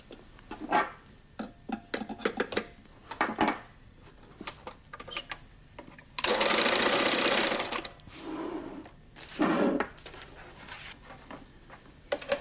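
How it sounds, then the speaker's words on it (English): Flexorand Speedbinder carpet binding machine sewing perlon velour tape onto a carpet edge: scattered clicks and knocks, then a loud, steady two-second burst of running stitching, a quieter stretch, and another short loud burst, all close by. "The machine runs to the edge of the carpet."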